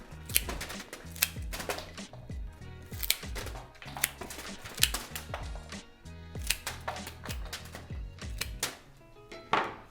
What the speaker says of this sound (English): Cut off the little nub, cut these straight across.